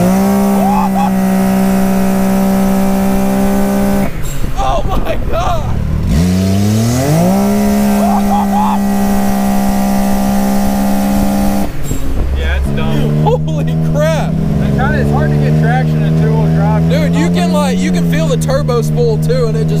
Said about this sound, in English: Turbo spool too, and it just take off.